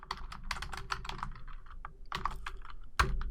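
Someone types on a computer keyboard with clustered bursts of keystrokes, a short pause and a final sharp tap, close and clear with no talking.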